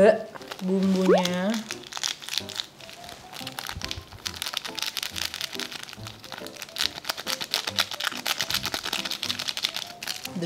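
Seasoning packet for ramen torn open and shaken into a bowl, a brief crinkling rustle of plastic followed by soft scattered crunchy pattering, close up, with someone speaking Indonesian over much of it.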